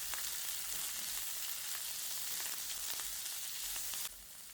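Sliced onions, curry leaves and green chilies sauté in oil for a simple tempered rice dish, making a dense, steady hiss of frying throughout that drops abruptly in level near the end, with no talk.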